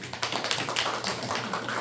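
An audience claps steadily in encouragement for the accompanist, a dense, continuous patter of many hands that stays fairly even throughout.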